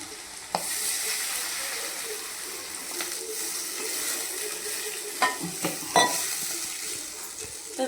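Onions sizzling in a hot pan with a steady hiss, broken by occasional scrapes and clinks as they are stirred.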